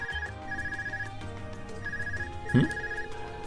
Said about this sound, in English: Is that your Arcus ringing?